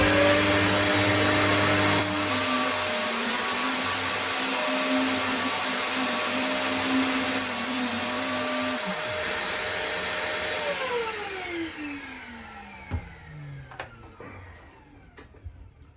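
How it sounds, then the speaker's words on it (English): A router cuts a small truss rod access channel into the headstock of a wooden guitar neck, a loud steady high-pitched whine that drops in pitch and spins down as the motor is switched off, followed by a few light knocks. "I've also just set up the same process to route the small channel for the truss rod access at the headstock."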